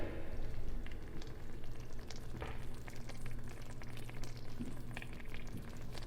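Puttanesca sauce with cod cooking in a pan over a medium flame, a steady low bubbling sizzle with scattered soft pops, close and continuous with no talking.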